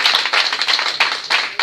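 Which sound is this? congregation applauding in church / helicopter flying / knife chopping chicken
congregation applauding in church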